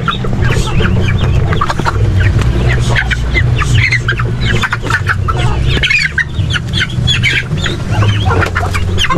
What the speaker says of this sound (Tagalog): nakapasok pala rin mga manok